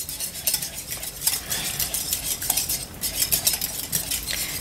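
A spoon stirs a home-made mustard sauce seasoned with pepper, sea salt and chopped fresh parsley, clinking and scraping repeatedly against a bowl in quick, close strokes, with no talking.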